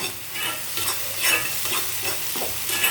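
An egg masala base sautés in a pan, with a steady crackling sizzle and intermittent scraping bursts of stirring, close and fairly loud, and no voices.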